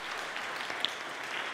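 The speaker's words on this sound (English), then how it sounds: "you can clap for them" A church congregation at a Sunday service gives steady, fairly quiet applause, a dense continuous patter of many hands heard from a distance with no talking over it.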